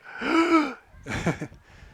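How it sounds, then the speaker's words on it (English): Spectators at a boys' high school soccer game gasp together after a goalkeeper's save, a sharp collective intake of breath followed by a second, softer gasp. "you could hear the collective gasp of breath there by the U32 Raider side"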